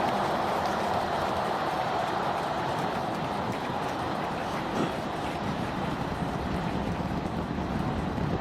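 A SpaceX Starship Super Heavy booster climbs during ascent with all 33 engines firing as it pitches downrange. Its roar is a steady, dense, broadband rumble that holds evenly from start to end, distant but loud, with no voices.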